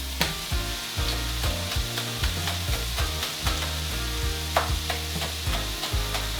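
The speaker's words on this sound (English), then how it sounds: "Let that bubble. And scrape off that bottom." A stir fry bubbles and sizzles loudly in a pan while a utensil scrapes the bottom in steady repeated strokes, close and continuous with no voices.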